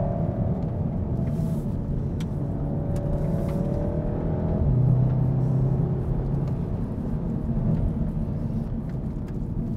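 A 2015 Volkswagen Golf R is driven hard through a series of corners, heard from the cabin as a constant deep engine rumble with gently rising and falling pitch and a brief swell midway, with no talking.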